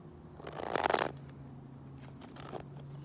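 Tarot cards handled and laid out, with a brief burst of riffling and shuffling followed by softer sliding and tapping of cards, close and fairly quiet with no talking.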